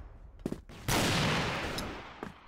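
Gunfire in the online shooter Crossfire: a few quick shots, then a loud sustained burst of automatic fire that fades out, ending with a brief shot.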